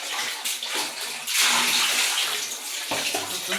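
Water pours steadily from a tap into a container being filled for hand-washing laundry, a loud, continuous gushing splash that swells midway and runs on without any talking.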